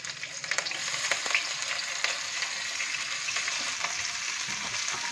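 Two or three green chilies roast in a pan for a mung bean pulao, giving a steady, close hissing sizzle with light crackles and occasional stirring taps.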